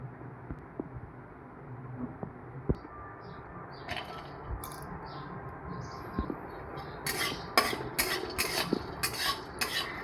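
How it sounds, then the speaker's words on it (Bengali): Almonds are fried and stirred in a wok on the stove, with soft scraping and scattered metallic clinks of a spatula against the pan that grow busier and louder toward the end. "আমি একটা কড়াই বসিয়েছি, চালমগজ আর আমার কাছে কাজু বাদাম ছিল না বলে কাঠবাদাম ভেজে নিচ্ছি।"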